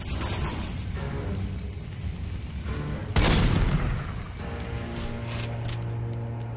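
Gunfire aimed at the player in The Godfather game: a sharp loud burst of shots cracks out mid-clip over rumbling in-game background noise, with scattered fainter shots after.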